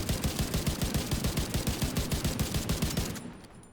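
A lightweight M4 rifle fires in rapid automatic bursts in a video game, a fast even rhythm of close, punchy shots lasting about three seconds before cutting off.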